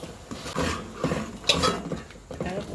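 Soft scraping and clinking of a spoon stirring corn flour mixture into simmering soup in a pot, repeating in slow strokes, close by, with faint murmur in the background.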